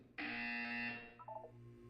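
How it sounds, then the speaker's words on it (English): Buzzer in the Portal 2 video game, a single loud electronic buzz that holds for under a second, then falls into a short run of lower stepped tones over a steady background hum. "You will hear a buzzer."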